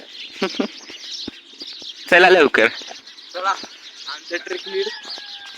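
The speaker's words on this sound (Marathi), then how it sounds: "चिमण्यांचा आवाज येतो इथून खूप" Sparrows chirp in short, bright bursts around Visapur, scattered across the moment at close to mid distance, mixed with people talking loudly nearby.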